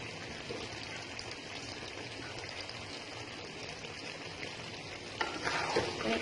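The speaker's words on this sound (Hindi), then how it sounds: "मिक्स करते हैं" Aloo keema is stirred in a pan with green coriander added, giving a quiet, continuous sizzle and soft scraping that grows briefly louder near the end, with no speech.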